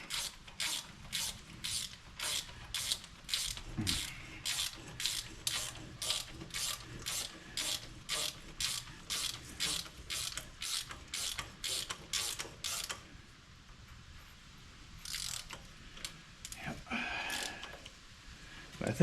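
A hand ratchet cranks rapidly in a steady clicking rhythm while tightening bolts on a G900 axle during brake and pinion seal work, then stops and gives way to scattered metallic handling noises, close and fairly quiet.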